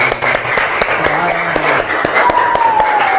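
A classroom group claps together, a fast dense patter of many hands, loud and close, with a faint tone sliding across near the end.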